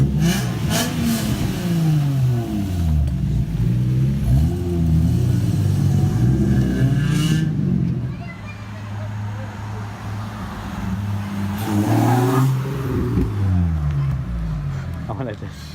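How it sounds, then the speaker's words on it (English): A Nissan G35/350Z fitted with a Motordyne test pipe accelerating nearby, its engine note climbing through rising revs in repeated pulls with a throaty, raspy exhaust, while people talk over it. "I want to see this thing take off."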